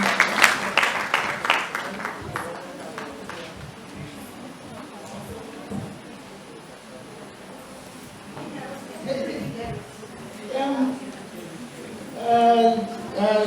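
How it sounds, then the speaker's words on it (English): Scattered clapping from a small audience at a young engineers' program opens strongly and fades into murmured talk and voices, with a few more claps and a voice toward the end. "So a round of applause for your colleagues."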